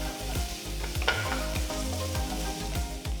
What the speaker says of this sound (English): Just saute the onions for about